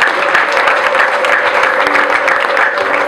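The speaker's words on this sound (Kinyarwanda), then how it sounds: "Reka dukomere Imana amashyi cyane." A church congregation at Pastor Mukomeza Maurice's service applauds loudly and continuously, a dense, even wash of clapping from many people throughout.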